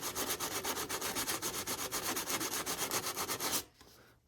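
Rhythmic back-and-forth sanding along the edge of a cracked Zildjian K Constantinople Renaissance 20-inch ride cymbal, close and steady with quick regular strokes, stopping abruptly near the end.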